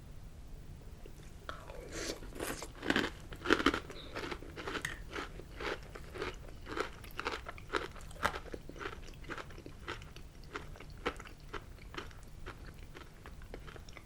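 Close, quiet crunching of crisp Honeycomb cereal being chewed, a rapid irregular series of crackly bites and chews.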